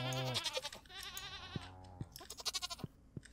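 Goat bleats from the Stardew Valley farming game, several wavering cries in a row followed by quick game clicks and effect sounds, clear and close with no talk.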